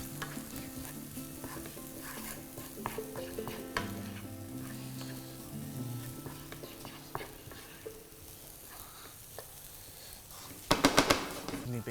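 Spices and chillies frying in a pan make a continuous close sizzle with stirring clatter, and a louder burst of crackling near the end.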